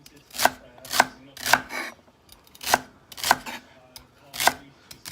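A knife chops vegetables for Italian chicken soup on a cutting board: about eight sharp, close, evenly spaced thuds with short pauses between them and no talking.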